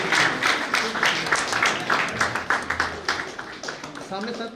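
Audience applause at an all-India neurotherapy convention, a dense run of hand claps with rhythmic bursts, fairly close and steady throughout, with voices mixed in underneath.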